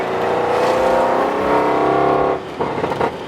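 A 700-horsepower Audi RS7 accelerating hard, its engine a loud, rising roar heard from inside the car for over two seconds before easing off, followed by brief voices.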